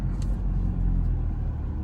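A car on a new ATLAS replacement tire drives along with a steady low engine and road rumble, close and continuous, with no voices.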